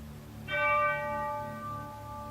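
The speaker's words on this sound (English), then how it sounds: "bells chimed to signal the coming dawn" Orchestral bells chime the coming dawn in Mussorgsky's Night on Bald Mountain, a bright struck bell tone ringing out and sustaining over a low, steady orchestral hum.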